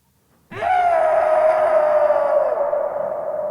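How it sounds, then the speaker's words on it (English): A single processed scream sound effect bursts in after a brief silence and holds as a long, loud, slightly falling wail that trails off gradually. "Screams."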